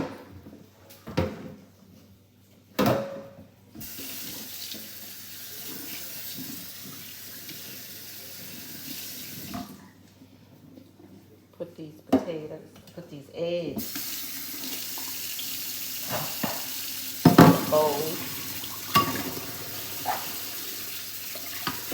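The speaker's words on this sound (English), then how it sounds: "Cool them off with some water, some cold water, so you can peel them." Cold water runs from a kitchen tap over boiled potatoes and eggs in a bowl, a steady splashing stream that grows fuller later on. There are clatters of dishes and a voice speaking over it.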